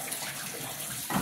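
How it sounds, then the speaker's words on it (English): Shower water runs while a puppy gets its first bath, a brief close splashing gush that grows a little louder at the end. "When we set the shower"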